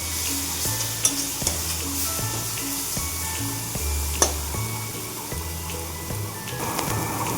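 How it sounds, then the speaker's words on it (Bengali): Masala spices fry in oil in a pan for a Bengali fish curry, crackling with a steady sizzle while a spoon scrapes and stirs in regular strokes, the repeated scraping rhythm clear and close. "মশলাটা দিয়ে দিলাম, দিয়ে আবার নাড়াচাড়া দেবো।"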